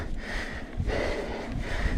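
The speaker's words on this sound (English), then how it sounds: "you can hear me breathing" A mountain biker on the Rustlers Loop trail in Fruita breathes hard while riding, close and loud, with rhythmic heavy exhales and inhales over wind and trail rumble.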